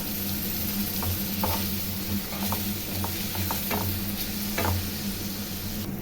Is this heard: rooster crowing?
no